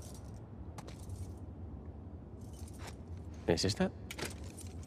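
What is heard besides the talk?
trying keys in a lock in The Last of Us Part II video game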